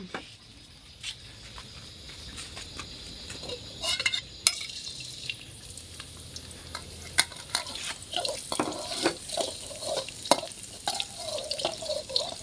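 Garlic stir-fried in a pan, a steady low sizzle with frequent scraping spatula strokes growing busier and louder toward the end, no voices.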